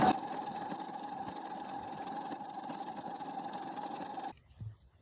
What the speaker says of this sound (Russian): Я намеренно шью без стабилизатора для того, чтобы показать вам, как прекрасно система IDT справляется на тонкой ткани